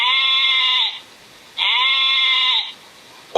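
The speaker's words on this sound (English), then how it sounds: "How about a tartan sheep?" A sheep bleats twice in a loud, close, sustained nasal cry, each call lasting about a second with a short pause between, followed by the start of a third.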